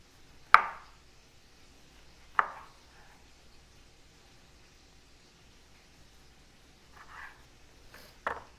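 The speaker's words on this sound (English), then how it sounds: "we're just thinly slicing them" A knife cuts through oranges, thinly slicing them into rounds: four sharp thunks against a board, spaced apart, in a quiet room.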